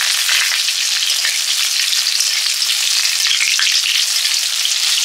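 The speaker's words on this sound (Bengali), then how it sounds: "এবার শুকনো লঙ্কা আর তেজপাতা দিলাম।" Dried red chillies and bay leaves sizzle in hot mustard oil in a kadai, tempering for a drumstick dal; a loud, steady, close hiss runs unbroken throughout with no voices.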